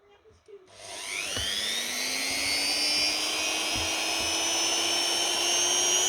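A Swazer hobby rotary drill engraver switches on with a click, then spins up into a rising high-pitched whine that settles into a loud, steady motorized scream, close by, with a few faint knocks in between.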